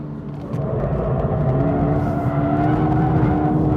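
A Toyota GR86 sports car pulls hard on a track. Its engine note swells and climbs steadily, loud and close, with a rumbling low end and no talk over it.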